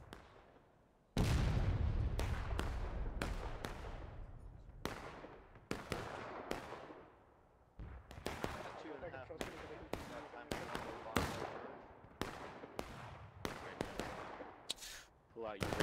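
Repeated gunfire from the Civil War-era shooter War of Rights on a farmland map, many sharp shots fired in irregular volleys near and far across the span, with a deep boom early and occasional voices beneath.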